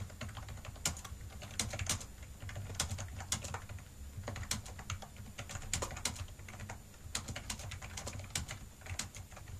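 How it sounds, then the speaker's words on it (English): Keys clatter on a cheap Chinese backlit gaming keyboard, each press needing firm pressure, in an irregular run of sharp close clicks with no talk over them. "You do have to apply some decent pressure to push a key."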